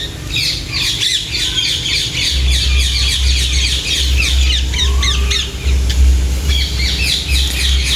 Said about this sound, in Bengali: এখানটা দেখতে যাচ্ছে টিয়া পাখি অনেক টিয়া পাখি আছে